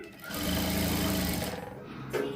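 A sewing machine stitches fabric piping for a blouse neck, running in a steady, rapid mechanical whir close up for about two seconds before slowing and stopping.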